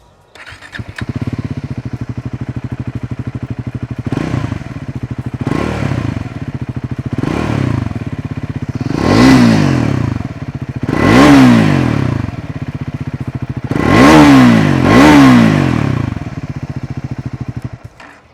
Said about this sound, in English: let's listen to its exhaust note